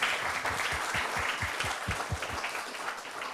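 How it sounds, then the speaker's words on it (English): An audience at an arts talk applauds in a steady, dense wash of clapping that holds at even strength from start to finish, with no voices on top. "Round of applause."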